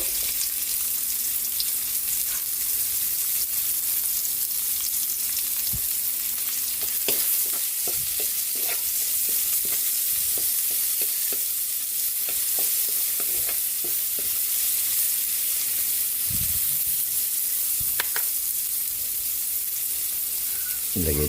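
Garlic and onion sizzle in a pan as they fry for a Filipino ginisang gulay. A steady crackle holds for about twenty seconds, with a few sharper pops and stir clatters.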